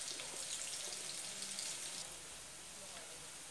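Onion sizzling in a frying pan while cooking hot dog filling, a steady close hiss and crackle that softens slightly after two seconds, with no talk.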